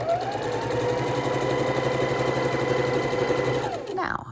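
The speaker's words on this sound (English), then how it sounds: "we're sewing the last 2 halves of the quilt together" A sewing machine runs steadily at close range, stitching two quilt halves together along matched seams, with a continuous whirring drone that stops abruptly near the end.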